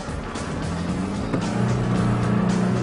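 An Isuzu D-Max engine revving hard while driving on sand, a steady loud drone with a slight rise in pitch partway through, continuous and close, with no voices.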